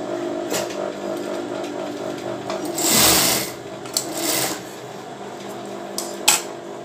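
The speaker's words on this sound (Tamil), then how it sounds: "அத அப்படியே சுத்தி நான் வந்து தையல் போட்டுக்கிறேன்" An electric sewing machine stitches a bra, running in a steady whir with a louder burst in the middle and short stop-start runs toward the end, close and prominent.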